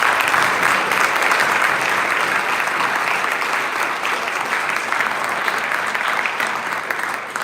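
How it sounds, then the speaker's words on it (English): An audience at a wind ensemble concert held in a church applauds, a dense, even wash of many hands clapping that holds steady for several seconds in a reverberant room. "If we could please give them a round of applause."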